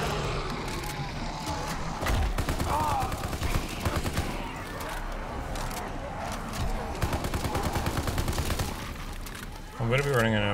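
Rapid gunfire from Call of Duty Zombies rattles on almost without pause, close and loud, in dense bursts of overlapping shots for about ten seconds.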